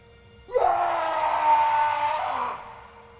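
A man lets out a loud, sustained scream of terror lasting about two seconds, rising sharply and then fading, heard alone as a dramatic sound effect.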